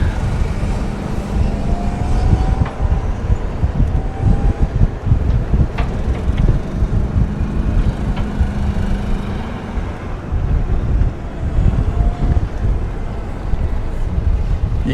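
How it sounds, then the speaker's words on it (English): Steady wind buffeting the microphone on a breezy day while riding in a DACH Apollo Elite 4 Forward golf cart through The Villages, a continuous low rumble with faint motor whine running throughout. "You can see from the flags that it's a pretty breezy day today."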